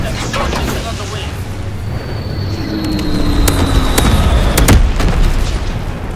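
Fritz X bomb explosions in the World War II shooter Call of Duty WWII: deep, rumbling booms over a steady battle din, swelling louder with sharp cracks around the fourth and fifth seconds.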